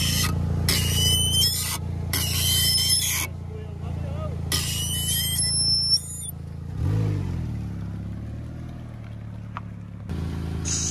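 High-pitched brake squeals in several bursts from 3D-printed brake pads on one wheel, over a car engine, with the vehicle rumbling and slowing in between; people talk in places.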